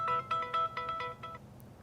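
A mobile phone's ringtone plays a bright, repeating melodic chime, about six quick notes in a row. It sounds close and clear, then fades out, with no voices over it.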